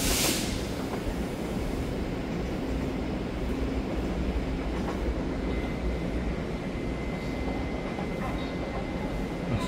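A twelve-car EMU3000 Tze-Chiang express train rolls past, a steady, loud, continuous rumble of wheels and carriages that holds without a break from start to finish.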